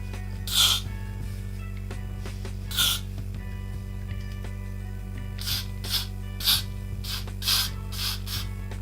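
Hairspray hisses from an aerosol can onto the top of a lace closure wig in a series of short bursts, two spaced apart and then several in quicker succession, close over a steady low electrical hum.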